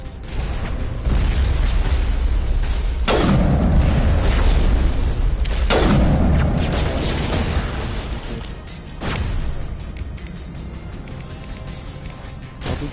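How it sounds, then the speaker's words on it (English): Heavy shotgun blasts in Mass Effect Legendary Edition gameplay: three booming shots at irregular intervals, each a loud, broad burst that rings out over continuous rumbling game noise, with no talking. "Shotgun."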